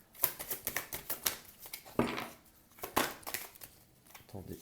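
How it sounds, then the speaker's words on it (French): A tarot-style card is laid onto a deck, giving soft papery taps and slides among several quick close handling clicks, with no speech. "Si on repose une carte par-dessus"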